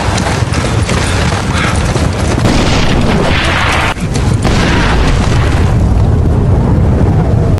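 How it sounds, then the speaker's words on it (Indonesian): A loud, dense explosion from a war film about a tough old man against Nazi troops, a sustained booming rumble with crackling debris filling the whole stretch. "Kemudian setelah ledakan"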